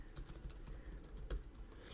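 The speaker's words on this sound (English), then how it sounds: "why are you typing these things out when you could just easily copy paste?" Typing on a computer keyboard, a quiet, steady patter of key clicks with a few sharper strikes, heard close up and alone.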